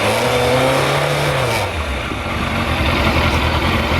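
A Yamaha FZR-600 motorcycle engine with a charging fault idles loudly, its pitch rising briefly then dropping back to a steady rumble, close by with no voices.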